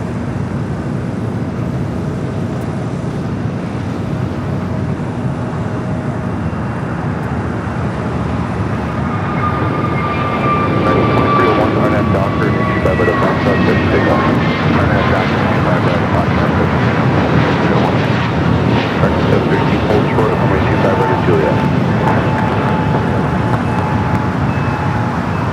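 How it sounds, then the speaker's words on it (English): An American Airlines Airbus A321neo jet takes off at LAX, a broad engine roar that swells louder around the midpoint and holds steady, rich in rumble with rising whining tones, wind buffeting the microphone. "Next takeoff, American Airlines flight 1186 heading to Dallas Fort Worth, Texas"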